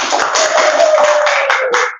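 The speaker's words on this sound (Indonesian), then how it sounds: "Tepuk tangan dulu untuk kelompok 1." Schoolchildren in a classroom applauding a group of classmates: a short, dense burst of many hands clapping together, close and loud, lasting about two seconds before cutting off abruptly.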